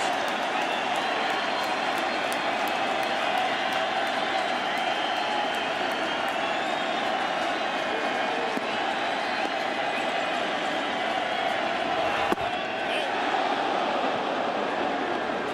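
A baseball crowd at the 2009 World Series, Phillies game, producing a dense, steady roar of cheering that stays loud throughout, with a brief bump in the noise near the end.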